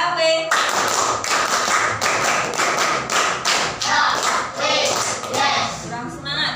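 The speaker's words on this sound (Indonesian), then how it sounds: "Tepuk tunggal, tepuk 2, tepuk 3, tepuk HW" A primary school class claps through a rhythmic counting routine in a classroom, a loud run of sharp, evenly spaced group claps in quick bursts, with a teacher's voice calling out between them.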